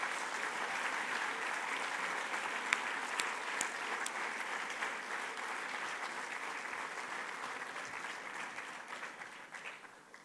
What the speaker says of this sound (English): Let's give a big round of applause for all our teachers.